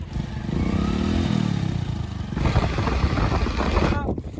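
A motorbike is ridden out, its engine humming and rising in pitch, then clattering and scraping over rough ground toward the end, heard close and moderately loud.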